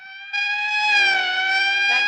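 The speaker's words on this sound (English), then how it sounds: "That's the fifth siren in the last hour." Police car siren from the 1957 film Plan 9 From Outer Space, a steady sustained wailing tone that swells slightly louder partway through and holds.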